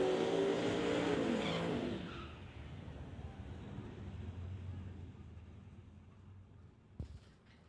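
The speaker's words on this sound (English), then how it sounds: "in the White Trash Racing Chevy Camaro as we get ready for the next pair in Outlaw 275, Trevor Mulder and John Cuglietta." Outlaw 275 drag cars, a Chevy Camaro and a 2004 Mustang, launch with a loud engine roar that lasts about two seconds before fading into a lower receding rumble, ending with a brief sharp knock.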